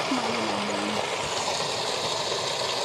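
Water flows steadily down a stream on a farm, a continuous near rushing and trickling wash, with a brief faint tonal sound at the start.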